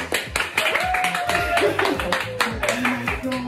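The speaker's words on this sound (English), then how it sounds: "Let's give her a round of applause." Clapping for Beatrice at the end of her makeover on a beauty makeover show, a scattered round of claps running throughout, fairly close, mixed with a voice and tonal sound over it.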